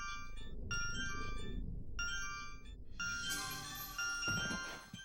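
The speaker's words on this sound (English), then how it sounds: "It's my cell phone." Cell phone ringtone in the game Eternal Darkness, a bright electronic melody that repeats in short bursts with brief pauses, growing denser and louder toward the end.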